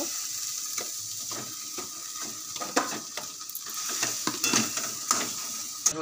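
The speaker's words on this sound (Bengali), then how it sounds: "আর এগুলো আমি একটুখানি মশলার সঙ্গে একটুখানি নেড়ে নেব।" Peas with turmeric, salt and spices fry gently in a pan as a spatula scrapes and clacks against the metal in irregular strokes over a soft sizzle.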